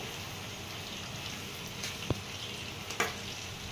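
Chicken fries with chopped onion and green chillies in a pan, a steady soft sizzle running throughout with a couple of sharp clicks of a utensil against the pan.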